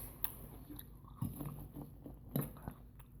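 Close, crunchy chewing of Captain Crunch cereal, with a few sharper bites standing out among steady mouth noises, nobody talking.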